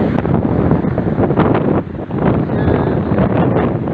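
Fast-flowing Kali river at Kalapani rushes in a steady, loud broadband roar, with gusting wind buffeting the microphone throughout and no voices.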